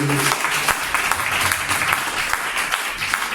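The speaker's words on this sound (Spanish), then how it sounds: "Fuerte ese aplauso para la palabra de Dios." A church congregation applauds for the word of God during a sermon, a dense, steady burst of clapping from a crowd that fills the space evenly.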